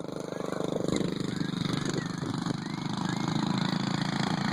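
A poorly running mini bike engine at a race chugs with an uneven, pulsing putter, close and fairly loud, with a voice briefly audible over it.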